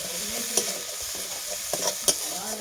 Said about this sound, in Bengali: রসুনটা একটু ভেজে নিলাম